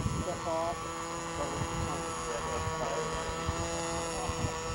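A radio-controlled model airplane, the California Killer, runs its propeller engine as a steady droning buzz with harmonic whine close by, while people talk over it.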